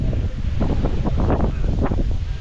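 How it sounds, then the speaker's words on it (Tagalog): Gusty wind buffets the microphone outdoors at a cold hilltop campsite, a loud, low rumbling roar with irregular surges throughout. "Aha, hangin pala"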